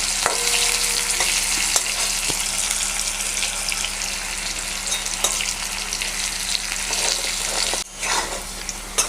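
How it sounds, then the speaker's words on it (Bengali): Potato pieces fry in hot oil in a pan, a loud steady crackling sizzle with occasional stirring scrapes and no voices. "আলুটা একটু হালকা ব্রাউন করে ভেজে নিতে হবে।"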